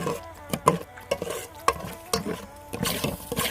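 Chicken stir-fried with boxed coconut milk for Indian-style chicken biryani, irregular scraping and clanking of a utensil against the pan over a soft sizzle, close and moderately loud.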